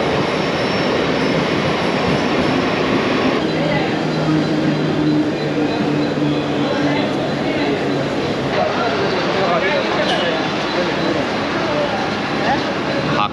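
Mumbai local train at a station, a steady loud rumble of the railway carriage and wheels with a constant hum and faint metallic squeal, continuous throughout.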